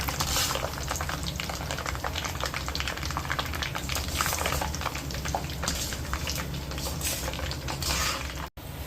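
Skin-on peanuts deep-frying in hot oil for Tamil kara boondi, a steady dense sizzle and bubbling with occasional stirring, close and continuous throughout.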